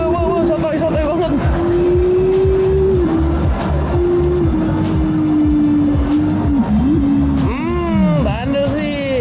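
Racing car tires squealing in Assetto Corsa, loud sustained wavering squeal over a roaring engine, with rapid pitch sweeps as the car slides near the end.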